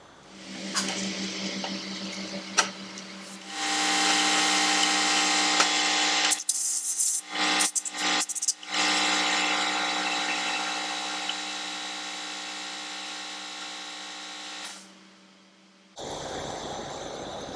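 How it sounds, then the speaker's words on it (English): Tough gummy residue is scraped off the brushes of an outboard motor's trim and tilt motor, a close, steady rasping that runs for several seconds with brief pauses and a few sharp clicks. "So I'm actually giving the sides of these brushes an extra little scrape."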